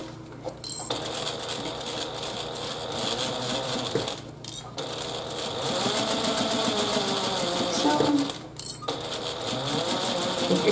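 A sewing machine stitches a fabric pouch seam in a fast, steady mechanical whir with a rhythmic needle chatter, running close and loud with two brief pauses.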